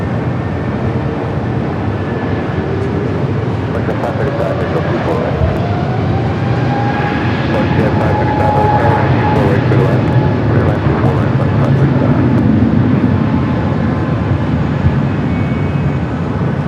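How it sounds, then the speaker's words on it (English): A Frontier Airbus A320neo airliner rolls along runway 24 left at LAX, a steady distant jet whine and broad engine roar holding throughout, with voices talking over it. "Frontier Airbus A320 Neo rolling down to 24 left"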